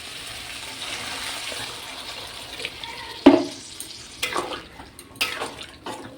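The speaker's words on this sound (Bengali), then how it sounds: "জল দিয়ে দিই।" Water is poured into a pan of cooking chickpea and pea curry with goat fat, making a soft, quiet splashing pour punctuated by a sharp clink and a few utensil knocks against the pot.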